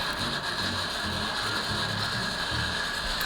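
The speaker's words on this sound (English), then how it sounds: "That noise, by the way, is the mocha pot having a seizure, brewing" A moka pot brewing coffee on the stove gives off a continuous harsh rattling gurgle with uneven pulsing bursts underneath. The sound is loud and close, and no one speaks over it.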